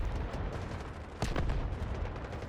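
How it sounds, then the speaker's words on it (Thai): Gunfire in the video game Delta Force, a dense rumbling burst of shots with one sharp louder crack in the middle, heavy and continuous with no voices. "อุ้ยใครยิงวะ"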